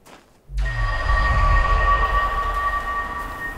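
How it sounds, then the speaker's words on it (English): A train in the Obduction video game starts up with a low rumble and rises into a steady, loud rolling roar with sustained metallic whining tones, continuing alone without talk. "the train goes to another part of the dome"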